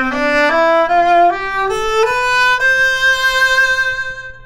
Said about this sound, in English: This is a great student viola with quality features and ebony fittings.